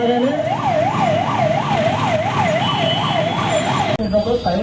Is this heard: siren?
yes